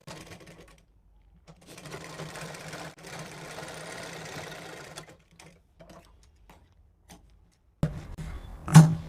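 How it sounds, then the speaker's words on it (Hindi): A sewing machine stitches a folded button strip on a plain blouse in a steady mechanical whir for a few seconds, then falls quiet before short bursts of stitching and a louder knock near the end. "इसे लाकर हम इस सिलाई के पास में मिलाएंगे और इसमें हम सिलाई देंगे"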